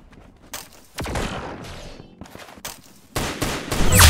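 Gunfire in a shooting video game, with loud, sharp shots and rapid bursts that come in separate clusters and grow denser toward the end, with no voices.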